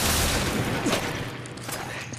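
Player's gun firing in Resident Evil 5: a dense, loud run of gunfire with sharp reports and mechanical clatter across the whole stretch, gradually easing toward the end.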